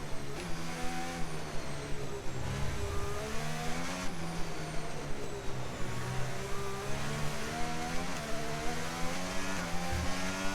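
F1 race car engine from the F1 25 racing game, a loud continuous high-revving drone that rises and shifts pitch through gear changes, steady throughout with no talk.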